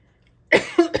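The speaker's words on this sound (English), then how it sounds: "I apologize for my coughing fits." Silence, then three quick coughs close to the mic, the first hardest, the next two shorter and throatier.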